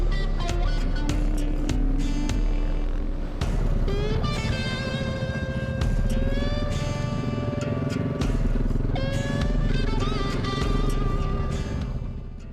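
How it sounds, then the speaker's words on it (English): Several enduro and adventure motorcycles, including KTM 690s, Suzuki DRZs and a Yamaha Tenere, run steadily on a dirt trail at Australia's Flinders Classic hard adventure ride, a loud continuous engine drone with shifting revs and no talk. "Mostly enduro bikes, a few 690s, a couple DRZs, and one lonely Tenere."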